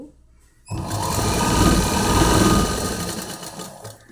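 A motorized sewing machine stitches a polish edge along a sari, starting abruptly after a quiet moment and then running in a fast, continuous buzzing whir, loud and close, easing off slightly toward the end.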